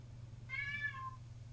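A single short, fairly quiet cat meow with a rising-then-falling pitch, heard alone over a low background hum.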